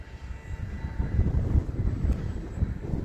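An E-flite Commander MPD radio-controlled plane on a 3300 mAh battery flies overhead, a steady droning motor hum with some wind buffeting, holding at moderate loudness as it circles around for a landing.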